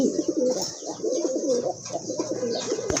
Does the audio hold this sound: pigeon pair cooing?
yes